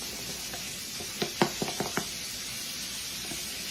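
Buttermilk is stirred into cornbread batter in a bowl, giving a soft wet churning under a faint background hiss, with a short cluster of sharp spoon knocks against the bowl in the middle.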